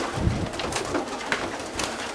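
Pigeons kept by a breeder coo softly and repeatedly at close range, low murmuring calls against faint background noise, with no talk.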